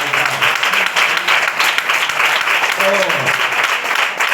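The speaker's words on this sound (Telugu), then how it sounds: "అర్థమైన చప్పట్లు కొట్టి" A church congregation claps together in steady, dense applause that fills the whole stretch at an even, loud level, with a few faint voices mixed into the crowd noise.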